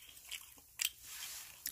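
Crispy fried fish, freshly caught on an island fishing trip, being bitten and chewed up close: a few sharp crunches followed by quieter, wetter chewing, with no talking.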